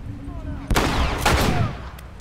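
Gunfire in The Last of Us comes as two sharp, loud gunshots about half a second apart, each ringing out with a short echoing tail over background game ambience.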